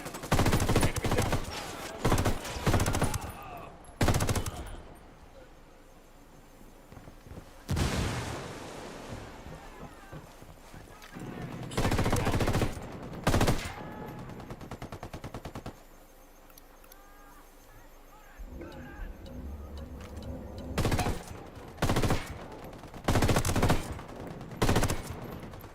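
Gunfire in the video game Ghost Recon Wildlands: repeated bursts of rapid automatic shooting and loud single shots, some close and harsh, separated by quieter stretches of background noise over about 25 seconds.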